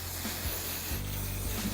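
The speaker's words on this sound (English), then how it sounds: "and then I take some hairspray" Hairspray hissing from an aerosol can onto long hair styled with gel, a steady close spray lasting under two seconds with faint rubbing.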